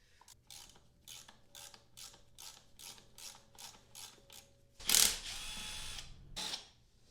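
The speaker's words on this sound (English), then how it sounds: "go ahead and loosen these and crack them by hand first before you hit them with an impact" A hand ratchet loosens bolts on a car catch can cover, a quick series of clicking pawl ratchets, close and steady, then a louder scraping, rattling burst near the end.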